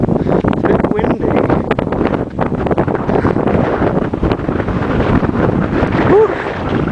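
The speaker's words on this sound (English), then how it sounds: "It's a bit windy." Strong wind buffets the microphone on a steep mountain hike up Ben Lomond near Queenstown, New Zealand, a loud continuous roar and rumble filling the whole stretch with no break.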